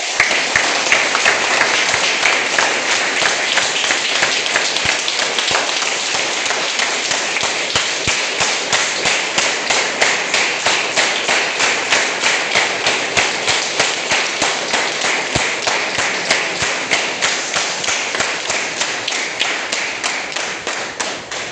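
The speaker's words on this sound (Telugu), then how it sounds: "ఒక్కసారి 2 చేతులు బయట చేయబట్టి గట్టిగా క్లాప్స్ కొడితే" A live audience at a Vestige business meeting bursts into loud, sustained clapping, a dense rapid patter of many hands that holds steady for over twenty seconds with no talk over it.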